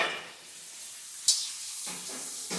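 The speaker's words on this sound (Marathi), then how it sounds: "थोडेसे पापड तळते" Papad frying in a pan of hot oil at home, a steady soft sizzle and hiss with one sharper crackling burst midway and a few faint stirs, no talking.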